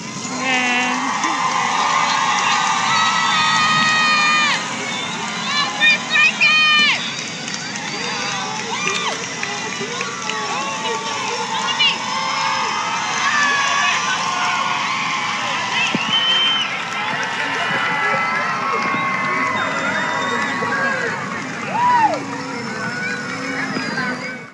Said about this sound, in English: Just listen to the excitement of the crowd at the moment the balloons were released.